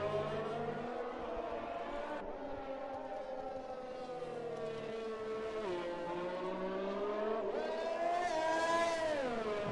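A Racing Point Formula 1 car in a racing video game at a Hungary round, a high-pitched engine whine rising and falling through gear changes as it drives past, with a faint commentary voice underneath.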